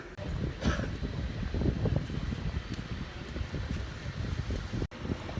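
Gusty wind buffets the microphone in low, uneven rumbles, with a brief dropout near the end.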